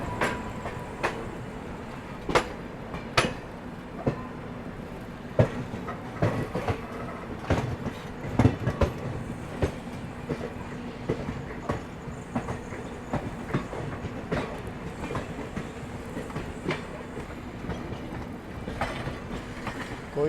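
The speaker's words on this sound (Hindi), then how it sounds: "कोई तो ICF वाली ट्रेन ये डिपार्चर ले रही है।" An ICF passenger train departing Bhusawal station is heard from a nearby train. Its wheels clatter rhythmically over rail joints, with repeated clicks and knocks over a steady rumble and no voices.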